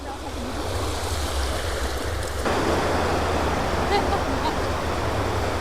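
Steady rush of surf on a deserted beach at Baguran Jalpai near Kolkata, a continuous broad roar that swells slightly partway through, with a voice faintly present.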